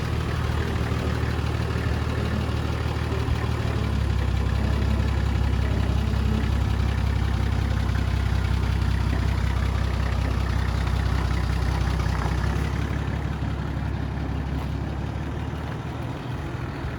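An off-road vehicle idling slowly down a slope in four-wheel-drive low range, a steady low engine rumble that holds constant throughout, close and fairly loud with no talk over it.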